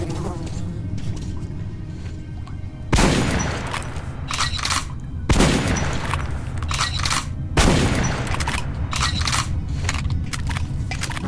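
Gunfire in Metro Last Light Redux, three loud sharp shot bursts spaced a few seconds apart over a steady rumbling game background.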